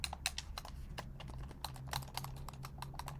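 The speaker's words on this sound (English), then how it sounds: "This is my favorite sound on the Xbox controller." Rapid plastic button clicks on an Xbox controller, many light taps in an irregular stream, close and quiet against a faint background hum.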